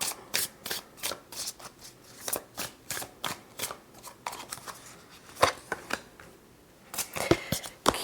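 Tarot cards shuffled by hand for a reading, a steady run of crisp riffling snaps and soft flicks, close and fairly quiet, with no talking.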